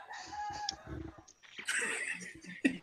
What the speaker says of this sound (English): Time for the roosters to get up.